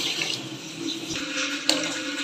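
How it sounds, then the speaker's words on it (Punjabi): A kitchen tap runs steadily into a sink while water is added for sugar syrup, a continuous close splashing hiss with a small clink partway through. "ਟੂਟੀ ਬੰਦ ਕਰ ਦੇਤੀ ਹੂੰ"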